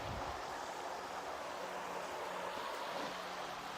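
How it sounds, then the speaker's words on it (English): Fast-moving, swollen river water rushes past in New Zealand after a flood, a continuous broadband roar and hiss with no pauses, steady and close throughout. "it's still quite wide, and the water is still moving very fast."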